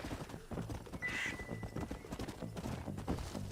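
Horse hooves clip-clop in a quick, steady rhythm in Red Dead Redemption 1, close and clear, with a short whinny partway through.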